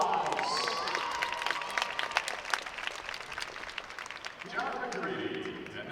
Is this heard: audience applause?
yes